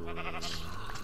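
Sheep bleating in Minecraft over a steady game soundscape, a short wavering bleat rising partway through the second, fairly close and moderately loud, with no talk.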